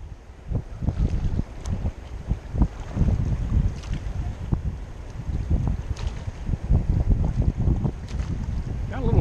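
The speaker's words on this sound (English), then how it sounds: "Got a little wind today." Gusty wind buffets the microphone while whitewater rafting on the South Fork American River, a loud continuous rumble with irregular bursts and faint water and boat sounds underneath, with occasional voices.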